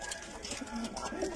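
Pigeons coo in a loft, soft low burbling calls mixed with a murmur of nearby speech in a brief snippet.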